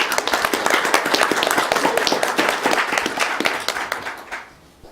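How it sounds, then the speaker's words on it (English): Audience at a school board regular meeting in Las Cruces breaks into a round of applause, dense steady clapping from many hands that carries for several seconds before tapering off quickly at the end. "let's give Elena a big round of applause, please."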